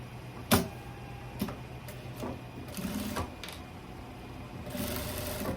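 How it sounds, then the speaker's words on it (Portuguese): A sewing machine stitching tailoring fabric runs quietly and steadily, punctuated by a few sharp clicks and louder ticks. "vai fazer a costura aqui embaixo"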